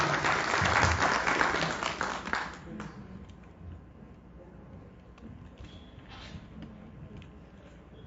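Audience applause at a talk on eclipse cycles, loud clapping for about two and a half seconds that quickly dies away into quiet room noise with a few stray taps.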